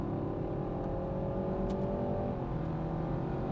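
A 2021 BMW 330i xDrive and a Dodge Charger Hemi 5.7 launch side by side in a drag race, a loud, close, steady engine roar climbing in pitch before a brief dip at a gear shift, with no talking.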